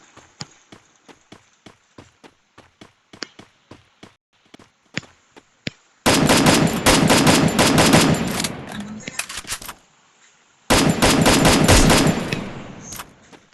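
Gunfire in a battle royale video game: a string of single shots ticks off steadily, then two long, loud automatic bursts erupt with a short silent gap between them.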